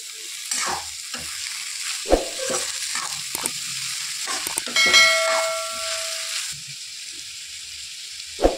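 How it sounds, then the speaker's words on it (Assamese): Frying sizzle as fried potatoes are added to onions in a pan, with bursts of stirring and scraping, some clatter and a brief hiss; no voices. "মই এতিয়া আলু ভাজিখিনি ইয়াত দি দিম।"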